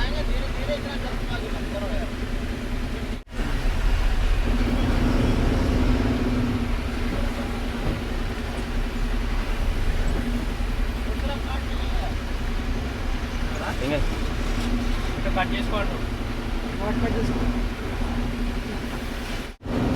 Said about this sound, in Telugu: చూస్తూనే ఉన్నాం ట్రాఫిక్ జామ్ ట్రాఫిక్ జామ్ ఉందంతా